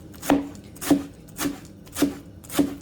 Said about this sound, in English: here this is just how you're gonna cut your cilantro